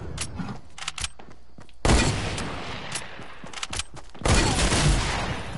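Video game gunfire crackles in dense bursts, with rapid shots early on and two heavy sustained volleys of automatic fire, loud and close, with no voices over it.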